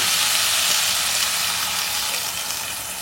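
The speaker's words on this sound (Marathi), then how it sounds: "आता मी ह्याच्यामध्ये पाणी घालणार आहे।" Water poured into a pan of frying potatoes gives a steady, loud broadband sizzle and hiss that holds evenly throughout, with no voices.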